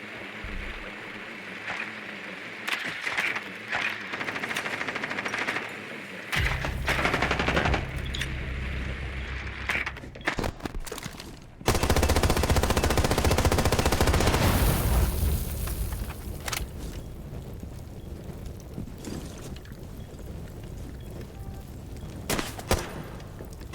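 Gunfire in a first-person shooter game: sustained loud automatic bursts and booming impacts, dense in the middle and thinning to scattered shots toward the end.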